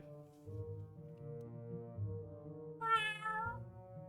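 A man imitates a cat with his voice, holding low drawn-out tones before rising into a short, bright meow-like squeal near the end, quiet and close.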